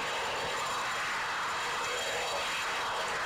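A helicopter flies in the Microsoft Flight Simulator X game, giving a steady, loud engine and rotor drone that holds evenly throughout with no other sounds.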